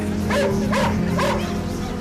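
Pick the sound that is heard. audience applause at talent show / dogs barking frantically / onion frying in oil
dogs barking frantically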